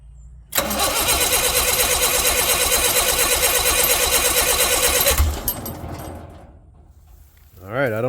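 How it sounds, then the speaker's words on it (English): A Generac Model KW natural gas standby generator engine cranks for several seconds with a steady rapid churning, then catches and stops abruptly, leaving a quieter tail before a voice speaks at the end. "it should just crank up and run"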